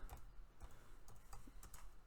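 Keyboard typing comes through as sparse, irregular soft clicks, faint and close, with no voices.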